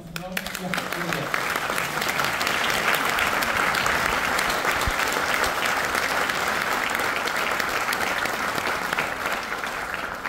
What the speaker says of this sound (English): Let's give you applause.